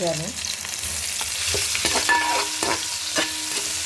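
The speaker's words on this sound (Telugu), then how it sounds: "ఇప్పుడు అల్లం వెల్లిపాయ పేస్ట్ వేసుకుందాం కొంచెం" Ginger garlic paste fries with tomatoes in a pan, a continuous close sizzle broken by the scrape and clink of a spoon stirring several times.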